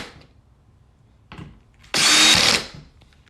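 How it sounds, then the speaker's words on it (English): A power drill set to low speed and low torque drives a screw into a shower fixture, one short loud whir lasting under a second after brief quiet handling noises. "I just make sure my drill is on 1 and that this is turned all the way down to 2"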